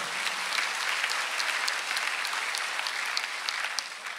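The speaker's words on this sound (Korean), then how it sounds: "박수 한번 주세요." Church congregation at a Sunday worship service claps together, a bright even patter of many hands with a few sharper individual claps standing out, steady for several seconds without speech.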